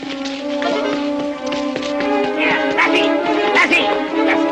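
A collie dog yelping and whimpering in short, high-pitched cries, close and fairly loud, mixed with other noise and steady tonal background sounds.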